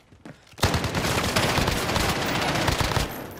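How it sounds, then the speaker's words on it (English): Automatic gunfire in Call of Duty Warzone erupts after a short quiet start and becomes a loud, sustained burst of rapid shots that lasts for about three seconds before easing off. "Taking fire!"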